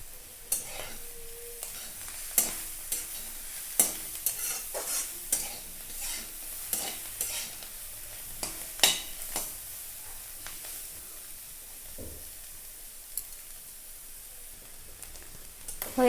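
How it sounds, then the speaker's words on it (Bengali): Cabbage stir-fried with egg in a pan sizzles softly while a spatula scrapes and taps in a busy, irregular rhythm, close and without speech. "হয়ে গেছে পাতাকপি ভাজি।"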